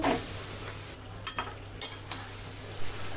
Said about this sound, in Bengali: পেঁয়াজটা ভেজে নিয়ে দিয়ে দিলাম মেখে রাখা মাংস